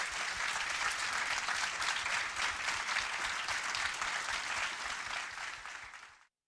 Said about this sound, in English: let's give them a round of applause for their efforts.